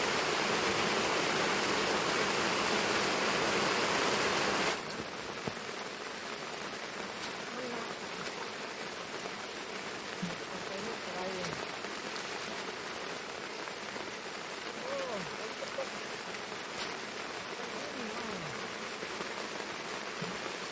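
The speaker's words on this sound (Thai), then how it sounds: "ฝนนี่ตกไม่มีแผ่วจริงๆครับ" Heavy rain pours steadily at Khlong Mod Daeng reservoir in Kamphaeng Phet during an evening fishing trip, a dense continuous hiss that is louder for the first few seconds and then settles to a constant downpour.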